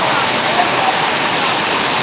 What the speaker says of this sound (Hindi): बहुत ज़्यादा तेज़ बारिश हो रही है दोस्तों